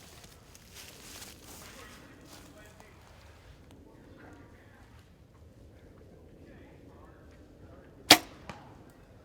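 Arrow shot from a bow striking a target outdoors, a single sharp crack near the end followed by a faint small tap, after a stretch of quiet ambient noise with low, indistinct talk.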